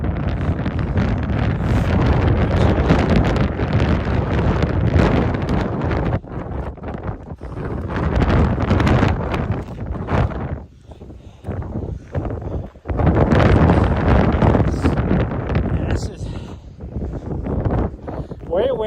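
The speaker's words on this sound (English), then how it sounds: "Way windier than I thought it was going to be" Strong wind buffets the microphone on an outdoor trail run, roaring in heavy gusts with brief lulls between them.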